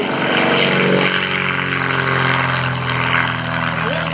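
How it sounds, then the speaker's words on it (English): An RV-8 propeller airplane on its takeoff roll at an air show at Greenwood Lake, its engine and propeller droning loud and close in a steady, rising roar throughout. "Got an RB-8 on the takeoff roll."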